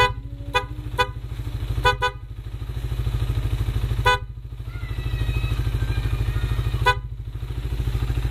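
An aftermarket PIAA motorcycle horn on a carbureted Suzuki Raider 150 honks in several short, sharp blasts, some paired, over the steady throb of the nearby idling engine.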